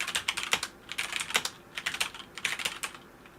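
Close mechanical keyboard typing in short bursts of crisp clacks, with a couple of brief pauses between runs.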